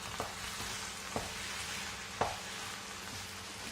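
A steady, loud sizzle of sukhiyan mixture frying in a pan as jaggery syrup is added, broken by a few sharp clinks or stirring knocks spaced about a second apart, with no talking.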